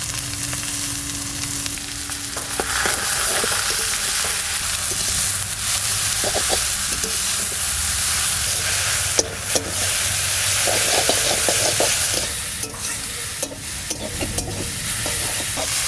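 Tender ash gourd leaves, with crushed chilli, turmeric and salt, cook in a pan with a steady close hiss and sizzle, punctuated by occasional stirring scrapes and taps, with no talking.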